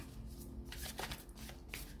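Two Gypsy oracle card decks are shuffled by hand in a quiet room, giving a few quick riffling and sliding bursts of card noise close by, with no talking.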